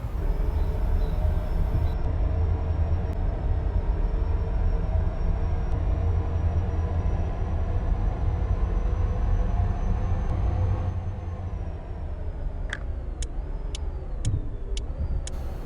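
A BharatBenz truck in an off-road trucking video game drives with a steady, loud engine drone and road rumble. A few short beeping tones come in near the end.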